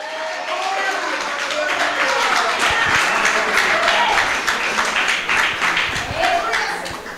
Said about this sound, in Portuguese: dá pelo menos um aplauso, diz pelo menos aleluia